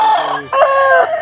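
A large free-range rooster crows loudly and close by, one full drawn-out call with a rising middle and a long falling tail.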